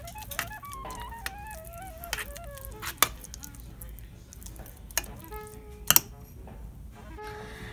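A spoon stirs cauliflower oatmeal in a pot, giving soft wet stirring with a few sharp clinks of metal against the pot, close up, while quiet tonal sounds carry on in the background.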